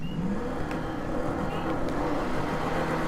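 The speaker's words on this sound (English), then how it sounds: "I mean the sounds of this truck." A truck engine in Grand Theft Auto V hums and revs steadily at close range, a continuous low drone with faint whirring for a few seconds.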